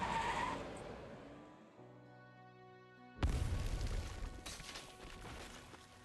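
Engine whine and skidding tires, then a loud crash or boom followed by a sustained roar of noisy rumble and debris.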